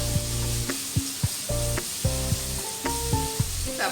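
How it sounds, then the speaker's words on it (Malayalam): Ginger garlic paste and onions sizzle loudly in a hot pan, a steady frying hiss broken by repeated clanks of a spoon scraping and stirring every half second or so. "ആ ജിഞ്ചർ ഗാർലിക് പേസ്റ്റും കൂടി ഇതിലേക്ക് ഇട്ട് കൊടുക്കാം. നന്നായി ഇളക്കി കൊടുക്കാം."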